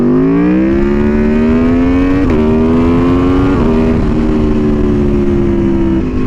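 A loud Aprilia Tuono V4 motorcycle engine roars close by, its pitch climbing steadily through several gear changes, with brief dips between shifts as it keeps accelerating.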